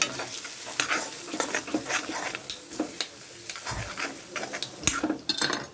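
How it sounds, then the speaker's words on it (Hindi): Eggs for Goan-style egg bhurji sizzle and fry in a pan while a utensil stirs and scrapes through them, a continuous close crackle broken by repeated clinks and scrapes, with no voices. "यहाँ पे हम एग डालेंगे जो डालने जरूरी है"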